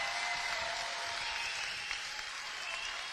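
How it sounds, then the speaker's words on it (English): A boxing fight-night crowd applauds both fighters after the bout, a dense, steady wash of clapping filling the hall at a constant level throughout. "Ladies and gentlemen, a round of applause for both boxers who gave their all."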